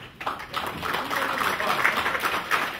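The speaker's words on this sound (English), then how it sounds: "it's okay to clap for everybody" Audience at a business meeting applauds a speaker, a soft, fairly distant patter of many hands held steady for a few seconds, with faint voices mixed in.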